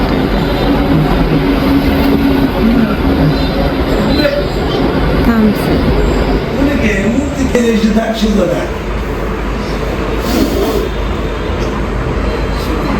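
A loud continuous rumble of a train rolling along the tracks, with some squealing and voices mixed in.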